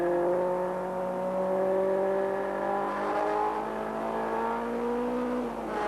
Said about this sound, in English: Now watch the Sierras sprint away as they get onto the straight.